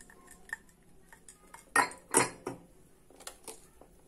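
A metal spoon clinks and scrapes against a glass of thick dalgona coffee several times, with two bright, ringing knocks in the middle and lighter taps around them.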